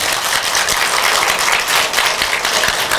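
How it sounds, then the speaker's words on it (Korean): A church congregation in Gangneung, South Korea applauding to welcome two missionaries, a dense, steady wash of clapping lasting about three seconds with no talk. "이 선교사님 우리 박수로 환영합니다."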